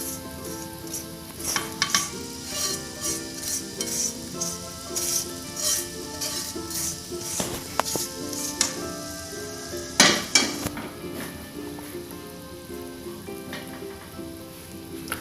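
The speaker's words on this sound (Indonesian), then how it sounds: "Ini tinggal aduk ya. Ini bumbunya udah masuk." Spice paste for Indonesian oxtail soup sizzles steadily in a pan while a spoon stirs and scrapes through it, with clinks against the metal and a sharp clatter near the end, and no talk over it.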